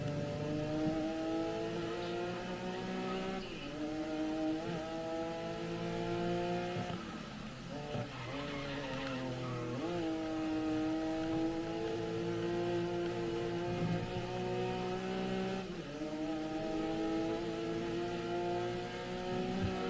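Racing car engine in the GRID Legends video game, a continuous loud roar that climbs through gear changes and drops on shifts, revving steadily for the whole stretch with no talking.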